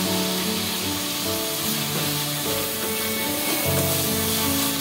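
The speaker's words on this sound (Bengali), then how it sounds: "মশলাগুলো ভালো করে কষিয়ে নিচ্ছি" Ground coriander, cumin paste, bay leaf and garam masala fry in a pan for an egg curry, giving a steady, continuous sizzle close by with a low background hum throughout, no voices.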